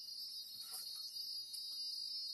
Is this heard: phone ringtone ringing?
no